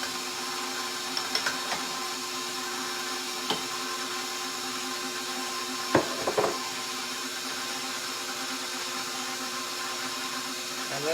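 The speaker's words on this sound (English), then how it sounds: "now you see I'm using a basic KitchenAid mixer with a dough hook in it" A KitchenAid stand mixer fitted with a dough hook works sourdough bread dough, a steady mechanical motor whir that runs close and even, broken by a few sharp knocks and clunks.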